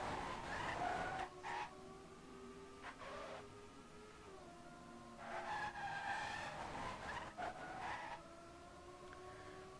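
Race car drifting in a racing video game, with repeated sharp tire squeals that rise and fall in long skidding bursts, separated by brief engine gaps, clear and fairly loud.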